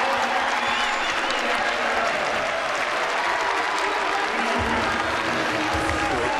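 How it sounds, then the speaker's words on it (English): Baseball fans in a ballpark applaud a pitcher, a continuous wash of clapping and crowd noise that holds steady throughout, with commentators' voices faintly underneath. "A nice round of applause from the remaining fans here for George Cantos."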